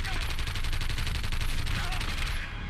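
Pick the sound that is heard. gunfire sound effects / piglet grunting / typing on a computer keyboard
gunfire sound effects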